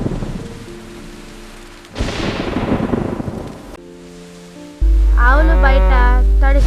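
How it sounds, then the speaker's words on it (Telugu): Heavy rain during a storm in an Andhra Pradesh village: a dense, steady roar of rainfall swells for a couple of seconds mid-clip between quieter stretches and other tonal sounds, with no clear distinct thunderclap. "ఆంధ్రాలో తుఫాన్ అంట. విపరీతంగా వర్షాలు కురుస్తున్నాయి."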